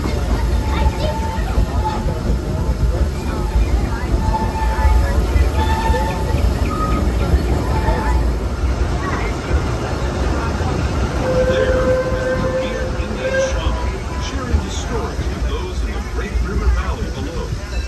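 Continuous rumble and clatter of the Disneyland amusement park train rolling along tracks, steady and loud, with occasional squeals and faint voices in the background.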